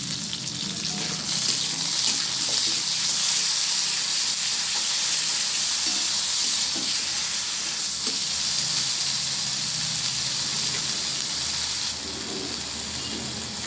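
Ginger-garlic paste and onion paste frying in hot oil make a loud, continuous sizzle and spatter that stays fairly even, with a few faint clinks of stirring underneath.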